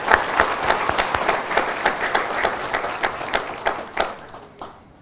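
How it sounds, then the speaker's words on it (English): An audience at a probation and corrections officer academy graduation ceremony claps steadily for about five seconds. The applause is moderately loud and continuous, with individual claps audible before it tapers off at the end. "Please give them a round of applause."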